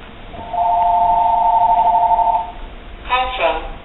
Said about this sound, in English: sorry about that phone ring